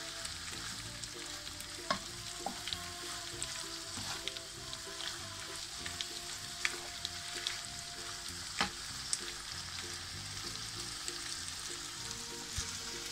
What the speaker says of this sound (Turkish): Etim kavrulurken karabiber, kimyon, kekik, tuz, hepsini bunları da içine atalım.